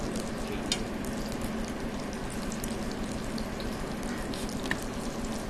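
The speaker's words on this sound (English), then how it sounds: "I'm going to saute off some mushrooms" Mushrooms sauteing in a pan in a casino restaurant kitchen, a steady close sizzle and crackle with light stirring, continuous and even throughout, no talking.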